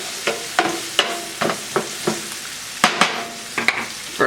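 Carrots and onions sautéing in oil in a pan for chicken cacciatore, heard as a low steady sizzle broken by repeated sharp clacks of stirring at an irregular rhythm, close and alone.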